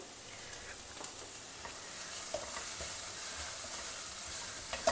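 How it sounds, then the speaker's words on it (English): Onions frying in a pan with a small pinch of turmeric, a steady soft sizzle and hiss with occasional light scrapes of stirring, close and moderately quiet. "Stir the onions till they become glassy in appearance"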